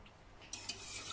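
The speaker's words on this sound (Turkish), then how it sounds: "Biraz çırpıcıyla şey yapayım." Hand whisk beating food in a home kitchen before it goes into a blender, heard as quiet, scraping clatter against a bowl that turns into a brisk, louder run of metallic swishing in the second half.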